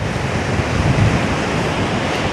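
Sea waves and wind roar together below a high shore above a beach in Anapa, a steady broad wash of surf with gusty wind buffeting the microphone and no voices.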